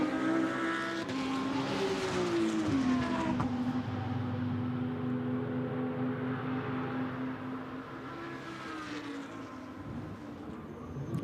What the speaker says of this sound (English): Porsche accelerates out of the chicane.